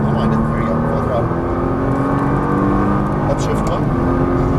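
A Nissan GT-R at full throttle on a track, engine roaring loud and steady from inside the car with rising pitch as it accelerates, while an instructor speaks over it.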